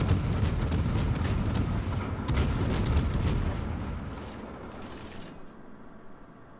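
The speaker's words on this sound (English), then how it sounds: "I've got like 6 salvos in the air at one time" Heavy gun salvos from a French tier-10 cruiser, the Colbert, in World of Warships, booming in a rapid close cluster of shots that fades into a rumbling tail.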